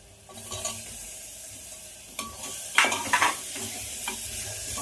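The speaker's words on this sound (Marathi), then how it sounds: "टोमॅटो आहे का नाही थोडा मुलायम होईपर्यंत परतून घ्यायचं" Tomatoes with turmeric sautéed in a pan for khichdi give a steady sizzle, broken by scraping stir strokes and a few louder clatters of the spoon against the pan near the end.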